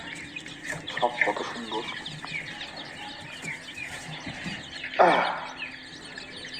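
Young baby chickens on a poultry farm chirp in short, high, scattered peeps, fairly close, mixed with a louder squawk near the end while a person talks over them.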